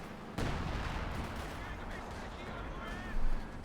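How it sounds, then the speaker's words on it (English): Gunfire and artillery in the strategy game Company of Heroes 2, a dense rumbling barrage of distant shots and blasts that surges louder near the end, with a commentator's voice faintly underneath. "Shots fired there."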